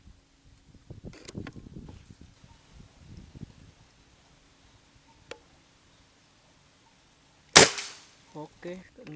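A single sharp PCP air rifle shot from a Big Game ST New Series Long cracks loudly and close, with a brief ringing tail, after faint rustling and handling noises; a couple of soft knocks follow.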